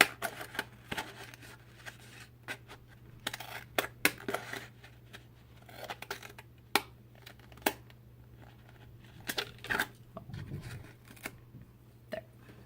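Scissors snip through paper around the edge of a homemade envelope: quiet, close, irregular cuts in short bursts with small pauses between.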